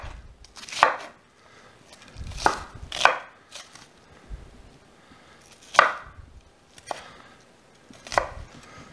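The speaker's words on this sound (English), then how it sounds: "Just get them chopped up, not too small." Vegetables for a southwestern green chili stew are chopped with a knife on a board: about eight sharp, irregular knife strikes, some in quick pairs, with quiet gaps between them.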